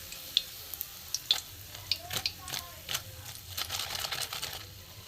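Pumpkin fritters coated in puffed rice fry in hot oil, crackling and sizzling close up, with sharp utensil clinks and bursts of stirring.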